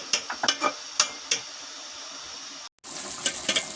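Spinach and mutton for palak gosht being stirred and fried in a pan, with soft sizzling and several distinct scraping stir strokes near at hand, a brief cut, then more stirring clatter.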